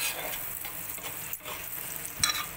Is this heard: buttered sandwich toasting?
yes